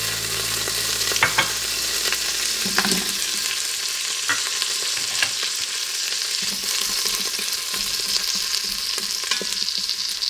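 Diced potatoes and carrots hiss and crackle steadily in hot oil for beef caldereta, with occasional clanks and scrapes of a spoon stirring the pan.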